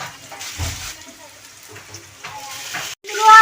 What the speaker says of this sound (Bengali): বিরিয়ানি ভাজার জন্য আলু আলু ভাজছি দেখো